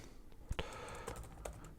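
Keys are tapped on a computer keyboard to enter registration details, a few soft scattered clicks over a constant background hiss, quiet and brief.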